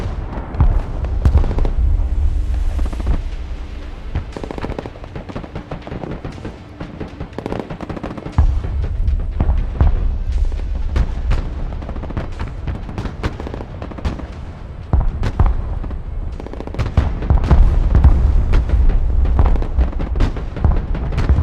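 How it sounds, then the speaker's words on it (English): Artillery barrages and explosions in the Broken Arrow war game crack and boom loud and close over a low rumbling battlefield bed, with dense bursts clustering near the start and again toward the end. "Artillery ready to fire, sir."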